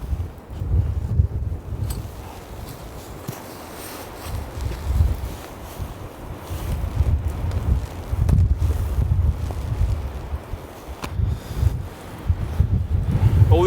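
Cold gusty wind buffets an icing tent during an ice storm, a loud rushing roar with low microphone rumble that swells and eases in irregular gusts, with a person speaking briefly.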